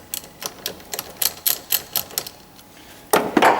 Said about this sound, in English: So I'm just going to loosen this terminal here